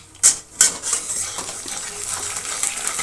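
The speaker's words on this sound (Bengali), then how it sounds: "এখন ভাজবো পাঁপড়।" Papad frying in hot oil in a pan, opening with two sharp metallic clinks of a utensil against the pan, then a steady low sizzle.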